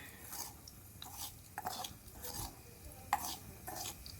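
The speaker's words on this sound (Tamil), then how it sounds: "ஸோ இப்போ இதை நம்ம வரட்டி நல்லா கிண்டிக்கலாம்" Semolina roasts in a miniature pan for mini kesari while a small utensil stirs it, making soft intermittent scraping and light clinks, with one sharper tap near the end, quiet and close.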